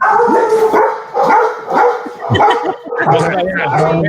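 Dogs barking repeatedly in short bursts, fairly loud and close, with yips and whimpers mixed in over a background voice on a call.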